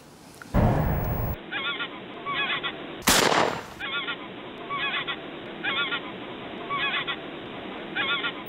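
Geese honk in repeated short bursts near Schiphol airport, each call a loud nasal cluster recurring every second or so, with two sharp broadband bangs breaking in early on.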